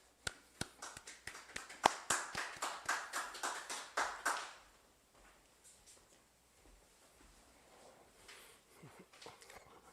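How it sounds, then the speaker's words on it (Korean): Audience applause welcoming a speaker at a history lecture, a burst of loud clapping for about four seconds that fades out, followed by quiet room noise with faint rustling. "박수로 맞이해 주세요"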